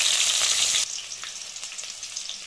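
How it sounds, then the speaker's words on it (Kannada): Finely chopped onions hit hot oil with crackling cumin seeds, giving a loud bright burst of sizzling that then settles into a softer, steady frying hiss with scattered pops. "ಈಗ ಈರುಳ್ಳಿನ ಡೀಪ್ ಬ್ರೌನ್ ಬರೋವರೆಗೂ ಚೆನ್ನಾಗಿ ಫ್ರೈ ಮಾಡ್ಕೊಳ್ಳಿ."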